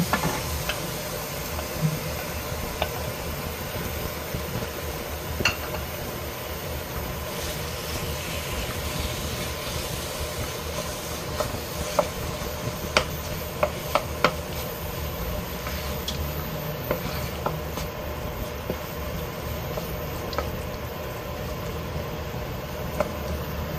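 Beef tapa cooking in a pan without oil, a constant close sizzle with scattered clicks and scrapes as the meat is stirred, lasting throughout without voices.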